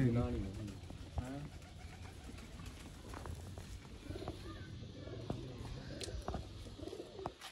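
Pigeons, red-eyed breeder birds in a village coop, coo softly in repeated low calls close by, with someone talking over them for much of the time.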